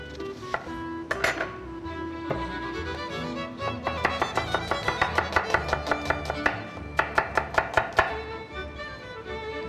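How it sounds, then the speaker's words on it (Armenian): A knife finely chops onion on a board in quick, even, close-up strikes that speed into a steady rhythm, with some clinks of utensils between the strokes. No voices are present. "մանր կտրատում ենք սոխը"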